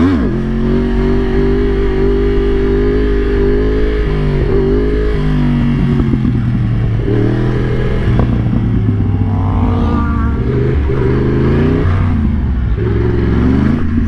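A 1000cc motorcycle engine idles and hums as the throttle is gently opened for a wheelie, loud and close, its pitch rising and falling smoothly in soft swells.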